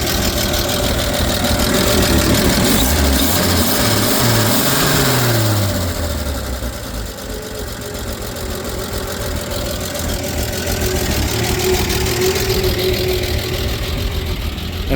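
A 1959 Chevrolet Apache's 235 straight-six with solid lifters idles while still warming up, a steady low rumble with even ticking running continuously at close range, no voices.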